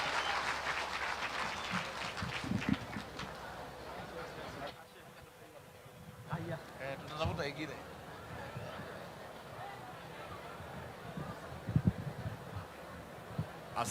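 A crowd in Kajiado, Kenya applauds to welcome the Deputy President, with clapping and cheering heard early, then voices and sparse claps continuing across the gathering outdoors.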